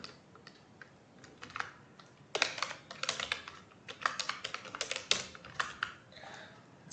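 Login details typed on a computer keyboard: quick irregular key clicks, sparse at first and then a denser burst of tapping, close and fairly quiet, with no voices.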